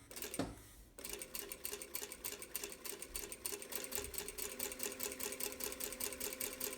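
A sewing machine runs a second row of long basting stitches a quarter inch from the edge, with no backstitching. A fast, steady mechanical chatter follows a brief start-up, close and continuous.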